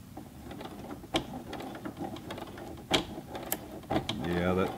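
A Juki G210 sewing machine stitches a thick denim jeans leg hem, its needle mechanism clattering in short uneven bursts with pauses between, a faint voice now and then and a brief tonal whir at the end.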